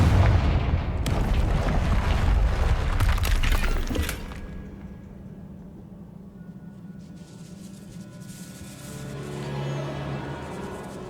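A Confringo spell blast in Hogwarts Legacy: a loud, crashing burst of explosive noise lasting several seconds, then fading into a low rumbling hum with lighter debris sounds.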